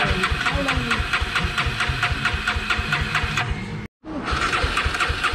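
A motorbike engine catches after a push start in second gear and runs with rapid, even firing pulses up close. It cuts out briefly near the end, then picks up again.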